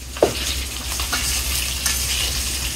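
Fish fries in hot oil, a continuous sizzle with a sharp crackle near the start and faint clinks throughout.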